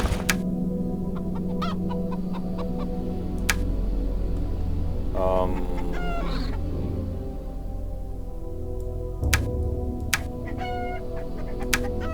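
Chickens cluck in a medieval fantasy RPG's game audio, short bursts of clucks standing out over a steady low ambient drone, with a few sharp clicks scattered through.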